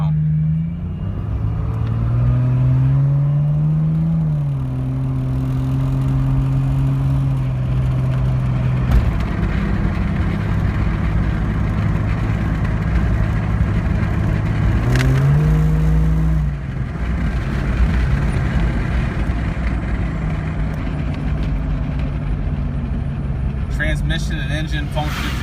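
A Jeep Cherokee engine with a Stage 2 build idles and hums steadily, with its pitch rising and falling as it revs a couple of times, close and continuous throughout.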